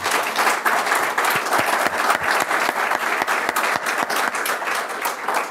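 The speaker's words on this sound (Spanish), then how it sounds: "Yo le pido un aplauso para Esther y su equipo de trabajo." A conference audience at a closing session gives a steady, full round of applause that fills the whole stretch with dense clapping and no talk over it.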